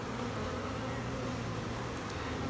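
Honey bees swarming over a hive frame hum in a dense, steady drone that fills the whole stretch, close and even, with no talking.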